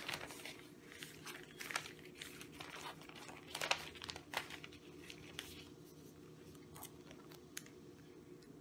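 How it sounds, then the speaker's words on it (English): Quiet plastic crinkling and rustling as a printed pattern sheet slides into a plastic sheet protector, with a few sharper crackles around the middle and softer handling noise afterward. "Place the pattern in a plastic sheet protector."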